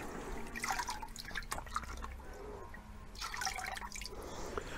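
Water drips and trickles as sphagnum moss soaks in a bucket of water for potting young Phalaenopsis orchids, with close, irregular splashing and dribbling sounds and no talk.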